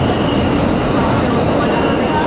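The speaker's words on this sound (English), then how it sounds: "This is a Brooklyn-bound Z local train." An MTA New York City Subway R160 train on the Z line rolls along the track, a loud, constant roar of wheels and motors inside the car with no clear announcement heard.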